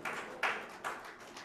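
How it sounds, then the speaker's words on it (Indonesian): A church congregation claps together, with three evenly spaced bursts of applause. The sound is fairly soft and heard alone, without talking. "Tepuk tangan dulu buat Tuhan kita."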